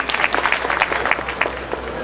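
Dense, steady clapping from a mushaira poetry audience, continuing for the full two seconds with no pauses and no distinct voices on top.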